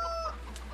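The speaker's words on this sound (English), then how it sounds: "Lovely chickens." Chickens in the Farming Simulator 2013 video game give a brief, close cluck of a couple of short tonal calls, fading quickly into a quiet background.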